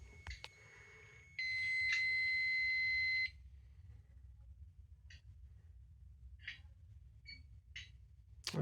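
A fire alarm panel resets from its annunciator, giving a short electronic buzz lasting about two seconds, followed by scattered faint beeps and clicks in a quiet room.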